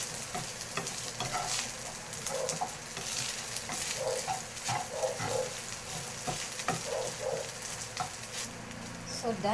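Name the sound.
mixing leftover Century Tuna with egg in a pan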